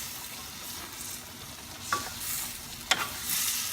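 A pot of beef caldereta simmers with a low, steady bubbling hiss, broken by a couple of sharp spoon scrapes and knocks as it is stirred, close and alone with no talking.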